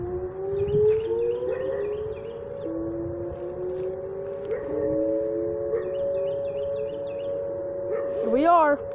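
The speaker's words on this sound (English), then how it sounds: "Fascinating tornado siren going off." An outdoor tornado warning siren sounds during a scheduled test in March 2019. Its steady, layered tones drone from a moderate distance, with faint birdsong and a brief voice in the background.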